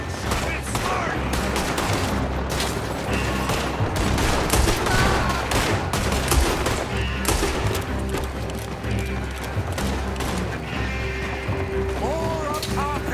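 Heavy gunfire erupts in a Red Dead Redemption 2 shootout, dense rapid volleys and booming shots overlapping continuously throughout, loud and close, with game music and voices mixed in underneath.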